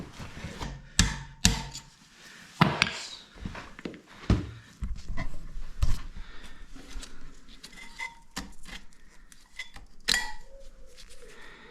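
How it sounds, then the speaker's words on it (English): Metallic taps and clinks sound as the pin is worked out of a BMW 1250 GS rear brake caliper during a pad change, sharp close knocks that come in clusters and then irregularly. "I'm going to remove this pin now to make it easier to remove the brake pads."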